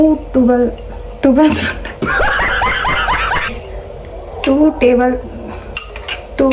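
A tablespoon clinks against pots and dishes while biriyani powder goes in for chicken biriyani, a busy run of metallic taps and scrapes in the middle, with voices talking and laughing around it.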